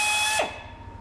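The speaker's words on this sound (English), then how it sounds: "Okay, so I got the one hole drilled." A power drill bores a hole while a Timbersled kit is being installed, giving a brief high whine up close that cuts off abruptly partway through.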